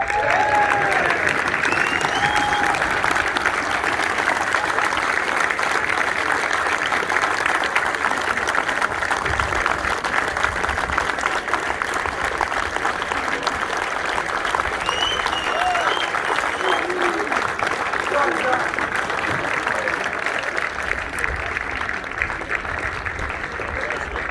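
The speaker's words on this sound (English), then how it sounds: "So please put your hands together for next year's Academy Captain, Jack Ladbrokes." Sustained applause from an audience at a youth football academy presentation day, dense and steady clapping filling the room for over twenty seconds, with faint murmurs and occasional voices beneath it.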